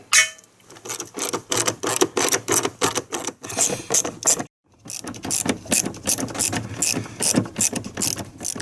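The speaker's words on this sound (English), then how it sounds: "The socket's a little easier for me because I can use an extension to grab this one here." A socket ratchet with an extension clicks rapidly while loosening headlight bolts on a GMC Sierra or Chevrolet Silverado, loud and close in repeated bursts of ratcheting with a brief pause midway.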